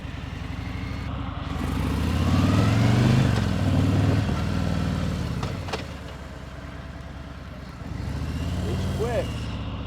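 Low, steady motorcycle engine rumble at slow speed through a tight U-turn in first gear, swelling slightly with a touch of throttle, close by with a voice speaking over it.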